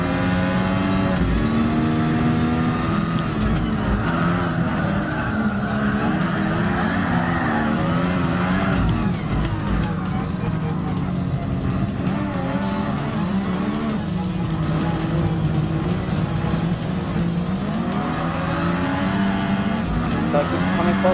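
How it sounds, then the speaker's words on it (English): Lotus 97T Formula 1 race cars in the Gran Turismo Sport racing game keep up a loud, continuous engine roar with rising and falling revs and shifting pitch, while tyre squeal comes through now and then across the whole stretch. "Sounds like the second place F1 car is getting a lot of serious pace."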